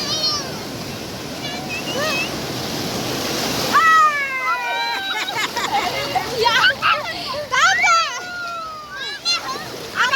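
Children splash water in the surf at Vengurla beach, waves washing steadily as excited young voices shout and chatter close by throughout.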